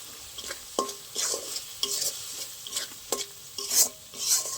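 Poppy seed paste with a little water, salt and Kashmiri chili powder being sautéed in a pan: brisk, repeated stirring scrapes over a light sizzle, close and fairly loud, with no talking.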